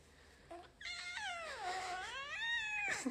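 A cat gives a long, drawn-out, wavering meow that rises and falls like a yowl, heard close and alone after a brief faint sound at the start.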